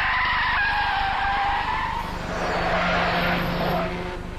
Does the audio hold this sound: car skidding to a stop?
yes